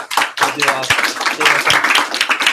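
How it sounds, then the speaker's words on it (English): A group at a workplace training day claps loudly together, a dense burst of rapid hand claps that fills the room, with a brief dip before swelling again. "We clap loud for Audrey as well."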